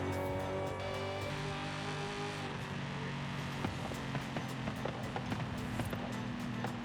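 A Hellcat-swapped 2008 Dodge Magnum SRT-8 with upgraded suspension drives at steady speed, its engine droning as a constant, fairly loud hum under heavy road and wind noise, with no talk.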